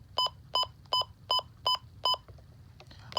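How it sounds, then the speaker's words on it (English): A Midland WR-120EZ weather radio gives six evenly spaced, sharp electronic beeps about every 0.4 seconds, close and clear over a low background hum, then falls quiet. "Just ignore the beep sound."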